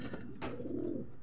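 Racing pigeons cooing softly at their loft, a low murmuring coo that swells briefly near the middle and runs on under a steady background hum, with no talk over it.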